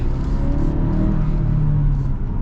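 A 2024 Ford Ranger with the 2.3-liter engine pulls hard under acceleration, its steady mid-range engine drone and low road rumble heard from inside the cab, continuous and fairly loud with no talk.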